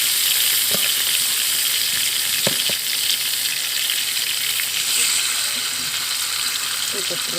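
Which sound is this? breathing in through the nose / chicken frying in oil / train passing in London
chicken frying in oil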